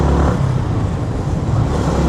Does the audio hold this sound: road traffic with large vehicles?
yes